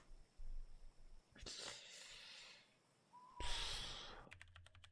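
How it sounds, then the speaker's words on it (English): Owl in the Scarlett's Sorrows video game, with a few breathy, airy bursts and one short hooting tone amid soft game sounds, faint and spread out, then a quick run of clicks at the end. "Did I hear an owl?"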